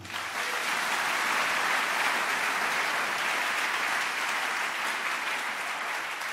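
A church congregation at a worship service breaks into sustained, dense applause that rises quickly and holds steady at a full, even level.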